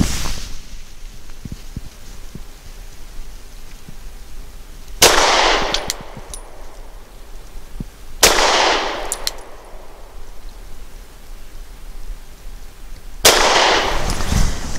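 Three sharp, loud shots from a Sig P365 XL pistol firing 110 grain jacketed hollow points, spaced several seconds apart, each with a ringing tail over quiet outdoor background.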